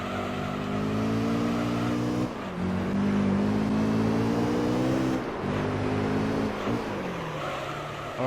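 Race car engine in Gran Turismo 3, a loud sustained droning whine with strong harmonic tones, rising steadily in pitch, dipping briefly at gear changes or braking, then climbing again, with no talk over it.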